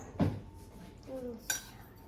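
A utensil clinks and scrapes against a bowl while vegan seven layer bar mixture is stirred, a few scattered knocks and rattles with quiet background between them and a brief voice faintly audible.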